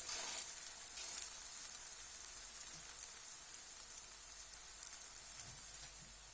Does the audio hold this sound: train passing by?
no